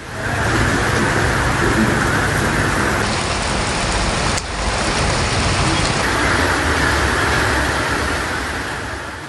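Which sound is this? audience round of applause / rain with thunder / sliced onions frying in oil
rain with thunder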